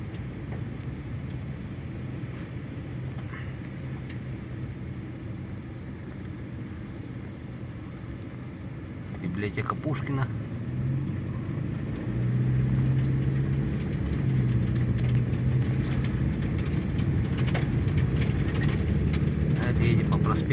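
A car drives along Lenin Avenue in Yakutsk in December, its steady road rumble and tire noise filling the cabin, growing heavier partway through, with someone talking briefly over the drone.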